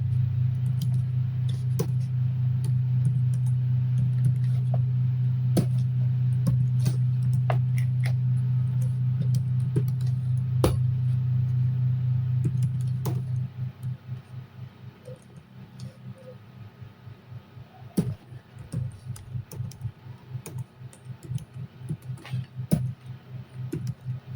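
Fast, irregular key clicks from a computer keyboard, heard over a steady low hum for the first half, then standing out more clearly in quick, uneven bursts.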